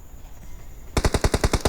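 Rapid burst of automatic gunfire in PUBG Mobile, about nine evenly spaced shots after a second of quiet, loud and close.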